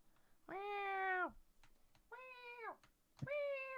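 A house cat meows three times in a row, each call a drawn-out, clear cry close to the listener, separated by short pauses and a few faint clicks, with no one talking.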